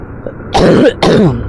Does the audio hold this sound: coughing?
yes